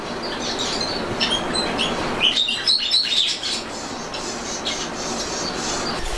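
Pet parakeets at a bird farm give scattered, bright chirps and short tweets, bunched loudest in the middle, over a constant low background hum.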